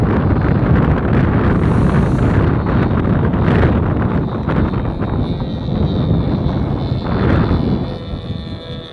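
Steady, heavy wind roar buffeting the microphone at an outdoor model airfield in Hemet, California, loud and continuous throughout with slight swells.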